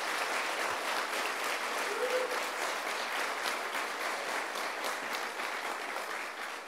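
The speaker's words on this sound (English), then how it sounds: "Let's give her another round of applause, Monica Sobrin." An audience at a New York University event applauds steadily and loudly for a speaker, a dense continuous clapping that holds for several seconds before easing slightly at the end.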